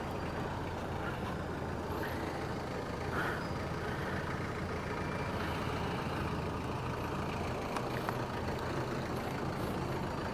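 Trucks and other vehicles in an outdoor parking area at Landers in Davao, a continuous rumble of engines and traffic with a few brief air-brake hisses, fairly loud and steady with no talk.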